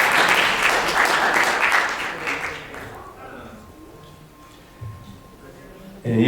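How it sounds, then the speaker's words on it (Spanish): A live audience applauds as a guest is welcomed onto the stage at a talk on science, magic and spirit; dense clapping fills the first few seconds, then thins and fades. "Un aplauso para él, por favor."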